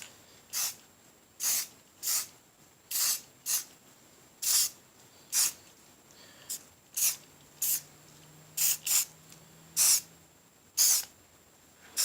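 Repeated short bursts of white spray paint hissing from a can, a dozen or so quick sprays with brief pauses between, close by.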